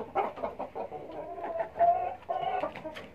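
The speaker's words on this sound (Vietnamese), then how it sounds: "Và đây mình có hai chú gà" A pair of glossy black Indonesian crossbreed chickens cluck close by in a coop, giving a series of short, irregular clucks and soft calls with a brief higher note midway.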